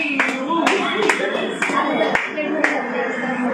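Audience applause at a women's day seminar, brisk overlapping hand claps that keep going for several seconds in a crowded hall, with voices mixed in beneath the clapping.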